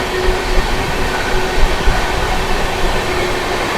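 The Goa Express rumbles past close by, a loud, steady roar of wheels and carriages with a faint clatter running through it and no voices.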